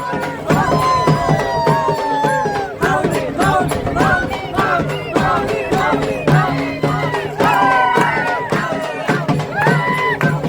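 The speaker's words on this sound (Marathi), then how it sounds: "वारकरी खूपच जल्लोष करायला" Lively crowd of pilgrims on the Wari near a grand Vitthal idol at Dive Ghat, voices rising in excited cheering and chatter, with dense overlapping shouts and calls throughout.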